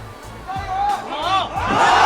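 Spectators at a kung fu bout cry out and whoop together in a short, excited burst, their shouts rising and swelling loudly near the end.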